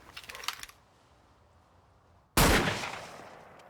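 A gunshot in a film scene strikes a car, arriving as one sudden loud blast that decays over about a second, preceded by a few quieter clicks and taps and then near silence.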